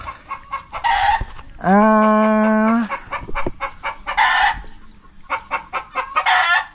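Chickens and chicks cluck near a brooder, with a run of short, close clucks, a sustained crowing call in the middle, and more clucking bursts after it.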